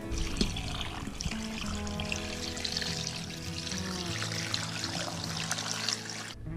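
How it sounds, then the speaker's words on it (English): Water pours steadily into a 6-quart Instant Pot packed with bones for bone broth, a close, continuous gurgling stream lasting several seconds before cutting off. "next we're gonna add the water to it"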